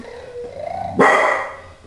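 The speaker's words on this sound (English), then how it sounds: "Those are the dogs." A single loud dog bark close by, preceded by a rising whine or growl, then fading out.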